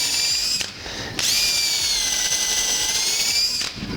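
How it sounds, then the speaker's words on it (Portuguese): A power drill bores a hole in a wooden bench leg, giving a close, high-pitched whine that cuts out briefly, restarts, then runs steadily for a couple of seconds before stopping. "fazendo só a marcação para poder fazer o furo aqui na peça"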